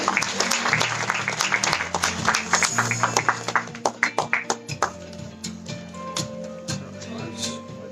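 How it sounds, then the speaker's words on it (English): An audience at a cricket sports club's kit launch gala dinner breaks into sustained applause, dense clapping that thins to scattered claps, with voices talking underneath. "Big round of applause for him, please."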